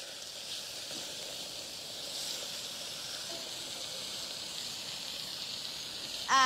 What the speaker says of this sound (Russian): Пускай слегка поджарится.